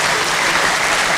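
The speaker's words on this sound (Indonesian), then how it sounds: "Lha tepuk tangan sing banter kok." Loud, dense clapping from a crowd at an Islamic sermon, a short continuous burst at full strength.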